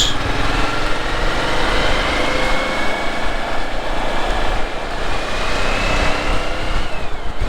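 A motorcycle rides into Naples with its engine running steadily under heavy broadband road and wind roar. The sound stays loud and even throughout, and nobody talks.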